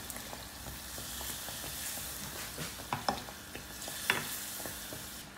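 Tuna sandwich pakoda frying in hot oil, a steady close sizzle with small pops and a few louder spoon or stirring clicks throughout.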